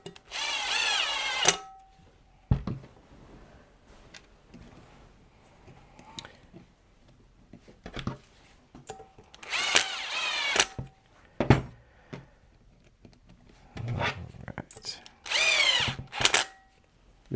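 A power driver tightens 3x10 screws into an XRAY XB2d Dirt Edition RC car, in three loud, close whirring bursts of about a second each, separated by quieter stretches of faint handling clicks.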